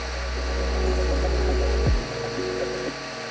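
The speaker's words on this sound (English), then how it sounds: "I'm using the brand new vertical bandsaw Dad just put together." A brand-new vertical bandsaw, built from a small portable bandsaw fitted with a table, cuts knife handle scales off a block with a steady droning whir. The motor spins down with a falling tone near the end.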